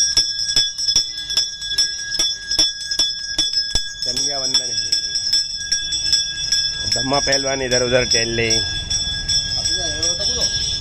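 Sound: temple bell ringing

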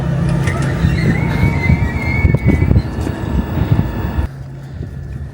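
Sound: train arriving at station

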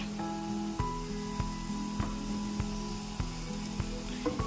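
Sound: paste frying in a pan while cooking paneer gravy

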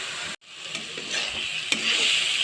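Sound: frying and stirring dried fish (shutki) with spices

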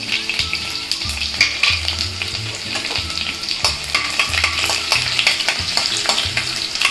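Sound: garlic frying in hot oil

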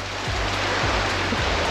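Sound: rain from an afternoon storm on the coast

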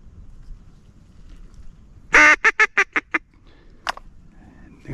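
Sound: flock of ducks calling during teal hunt

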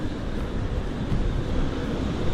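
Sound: wind howling in caves, Shadow of the Tomb Raider video game

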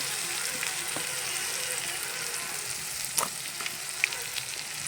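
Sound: brinjal frying in oil in a pan

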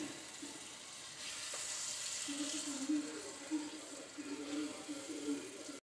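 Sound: okra and fried green chillies stirred in masala

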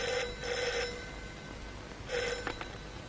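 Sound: telephone ringing with a booked call to head office

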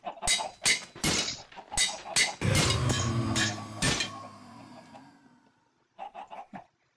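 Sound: chickens clucking in a video game

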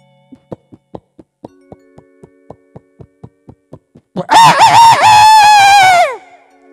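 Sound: man imitating rooster teasing a hen

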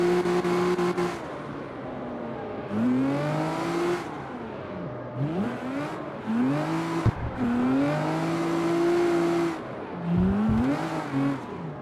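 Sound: car drifting with tire squeal in CarX Street video game

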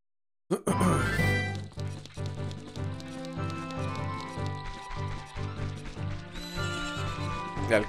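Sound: horse neighing in Zelda Ocarina of Time video game

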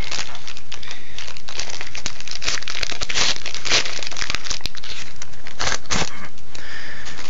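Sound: tearing open My Little Pony trading card packs

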